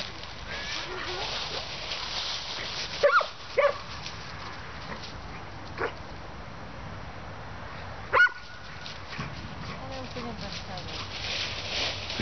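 Aronek, a dog in a park by the town hall, gives a few short, sharp barks or yips spaced apart amid steady outdoor background, with people talking throughout.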